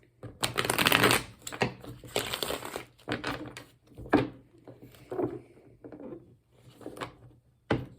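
A Rider-Waite tarot deck with extra major arcana cards, shuffled by hand in several quick rustling, riffling bursts separated by short pauses, close and clear.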